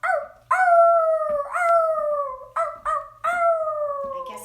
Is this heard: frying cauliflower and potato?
no